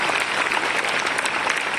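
A university event audience in Lucknow applauds to welcome guests, a continuous dense wash of clapping from a large crowd, loud and even, with no talking.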